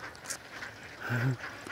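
Ducks quacking close by outdoors, a short burst of several harsh nasal calls in the middle of a quiet scene with light background noise.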